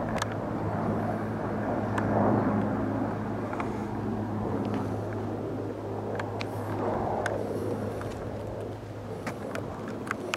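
A propeller aircraft drones overhead at a steady, moderate distance over an open hillside in Crimea, its low hum holding throughout with wind noise on the microphone and no talking.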